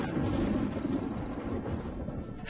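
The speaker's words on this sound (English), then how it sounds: "A storm approaches." Deep rolling thunder of a storm approaching over dry grassland, a continuous low rumble that fills the short stretch without a break.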